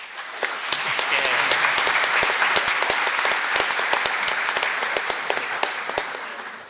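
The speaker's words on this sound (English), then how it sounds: "If you think space is cool, applaud." Steady applause from a conference audience at a space talk, a dense wash of many hands with sharp individual claps standing out, holding for several seconds before easing off.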